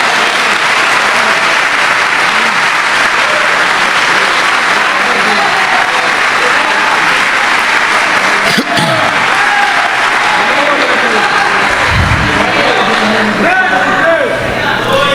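A church congregation applauds at a sermon on depression, with steady sustained clapping filling the room for about fifteen seconds, some crowd voices and a low rumble mixed in.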